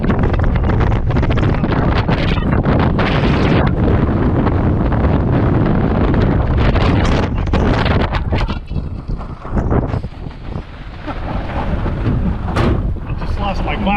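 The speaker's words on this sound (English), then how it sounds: "All right, we got a pretty good windstorm out here." A strong desert windstorm buffets the microphone with loud, continuous roaring gusts. The rush eases and turns more broken near the end.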